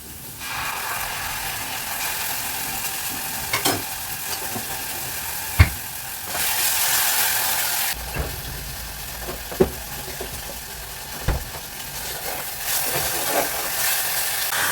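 Minced meat frying in a pan gives a continuous close sizzle and hiss, with a spoon now and then scraping and knocking against the pan in sharp, separate clacks.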